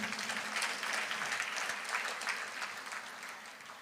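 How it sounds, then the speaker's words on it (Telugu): A church congregation claps together in sustained, dense applause, steady and even across the whole stretch with no voices over it. "చప్పట్లు కొట్టరు మీరు?"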